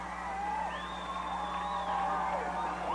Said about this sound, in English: Listen to the crowd, Mr. Kohler.